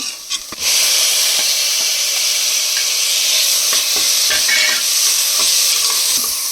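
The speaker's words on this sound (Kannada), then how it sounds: "ಈಗ ಇದು ಟೊಮೊಟೊ ಚೆನ್ನಾಗಿ ಸಾಫ್ಟ್ ಆಗುತ್ತೆ ತನಕ ಇದನ್ನು ಫ್ರೈ ಮಾಡ್ಕೊಬೇಕು" Tomatoes hit hot oil for a spicy chicken gravy, a short soft clatter then a loud, steady sizzle and hiss of frying close up, with faint stirring taps.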